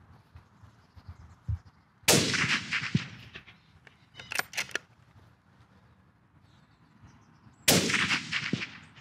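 A Mauser rifle fires at deer from high ground in East Anglia. Two sharp, loud shots about five and a half seconds apart ring out over quiet outdoor background, with a faint clatter between them.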